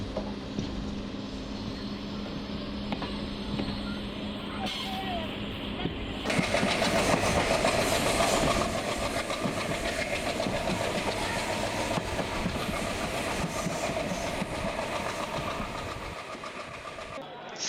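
Train rolling along rails past fishing villages in Tamil Nadu, India, a steady rumbling drone with faint clatter throughout, swelling slightly midway and fading near the end.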